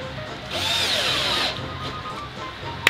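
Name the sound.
power drill driving black self-tapping screws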